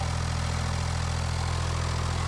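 An old abandoned tractor engine, restarted after about 40 years, idles with a steady, loud low rumble and constant drone, no voices over it.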